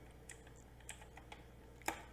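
Sparse keystrokes on a computer keyboard, a handful of light, uneven clicks close by with one sharper tap near the end, over a quiet background hum and no speech.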